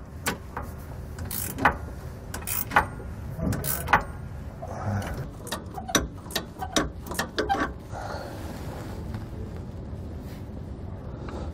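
A ratchet wrench tightens a bolt on the bushings of a Roadmaster Reflex steering stabilizer on a 2017 Coachmen Leprechaun, giving bursts of sharp metallic clicks in an uneven rhythm, close and fairly loud, with no talking.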